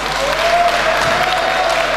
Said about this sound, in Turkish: ben özel bir alkış istiyorum